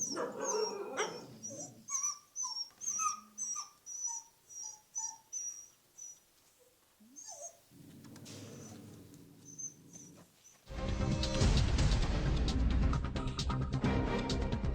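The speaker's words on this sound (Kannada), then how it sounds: "ಮನ ಕಲಕುವಂತಿದೆ ನಾಯಿಗಳ ಅಳಲು" Around ninety dogs penned together in one place bark and whimper in short repeated bursts, with chirping birds in the background, followed by a steady rushing noise near the end.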